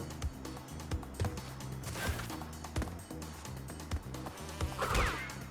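Bees buzz in the video game Crash Bandicoot N. Sane Trilogy, a steady insect drone mixed under the game's music and rhythmic thumps, with no talking.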